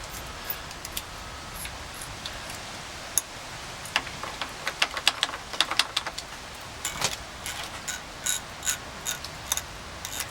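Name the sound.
spinning motorcycle clutch cable adjuster to tighten cable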